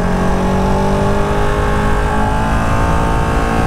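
A Ducati Panigale 1299R Final Edition superbike, a 2018 model, rolls slowly in first gear under 20 mph, its engine a loud, steady low rumble mixed with wind roar, and no voices are heard.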